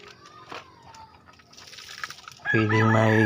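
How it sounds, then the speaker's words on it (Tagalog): Chickens, including a Rhode Island Black, cluck softly nearby, then a rooster lets out a loud, close crow over the last second. "And my rooster,"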